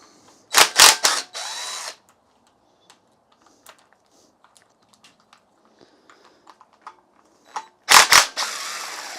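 A power tool, drill or impact driver, backing 10mm rocker cover bolts out of a Mini Cooper engine, two loud whirring bursts at the start and one at the end, with faint clinks and ticks between them.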